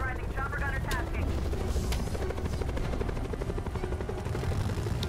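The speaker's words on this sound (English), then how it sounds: "Powers authorizing chopper gunner tasking." Chopper gunner helicopter in the video game Call of Duty Black Ops Cold War: a steady, loud rotor thrum fills the whole stretch, with bursts of gunfire and game voices over it.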